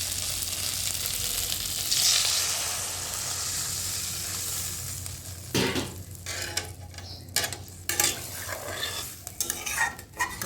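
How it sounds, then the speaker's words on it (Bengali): Water poured into a pan of fried spice masala for chana dal curry, a steady hiss and sizzle that then breaks into bursts of bubbling and clattering stirring, close by with no talk. "দেখো মশলাটা ভালো করে কষানো হয়ে গেছে। এবার দিয়ে দেবো জল।"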